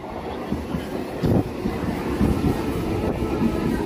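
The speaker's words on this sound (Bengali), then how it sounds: "এই দেখো ট্রেন কিন্তু চলে এসেছে আমাদের।" A local train arriving at Nandakumar station rumbles and clatters nearby with a steady, loud mechanical roar and a few sharper knocks, no talking.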